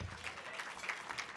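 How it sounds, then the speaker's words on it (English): Faint, somewhat distant applause from the audience at a Martin Luther King Jr. community leaders celebration breakfast, a brief, even scatter of clapping. "Come on, clap for yourself."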